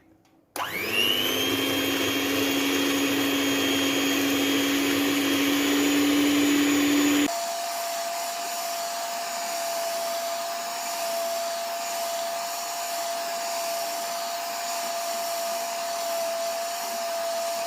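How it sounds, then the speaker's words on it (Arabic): An electric mixer whipping cream for a strawberry dessert whirs up to a loud, steady motor whine, then drops to a lower, quieter speed and keeps running alone to the end. "وهنا كنجيبوا الميكسر ديالنا باش يطلع لنا لا كريم مزيان"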